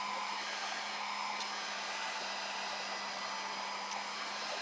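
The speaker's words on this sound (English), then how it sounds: "You also don't want to use a heat gun on alcohol ink, so I'm being doubly dangerous." A heat gun blows steadily at close range over alcohol ink on a Gelli print, a constant even whoosh with no pauses.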